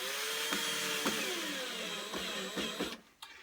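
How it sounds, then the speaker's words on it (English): Power driver setting screws to hold a hearth surround in place on a narrowboat, a busy whirring tool with several short bursts and pauses, close and fairly loud before cutting out near the end. "just going to put some screws in to hold it."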